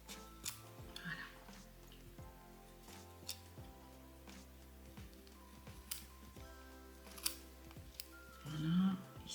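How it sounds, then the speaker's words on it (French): Scissors snipping the remaining yarn threads of a pompom made with a Knitpro maker, a few quiet crisp clicks spaced apart in a calm indoor room. "Il reste 2 fils à couper."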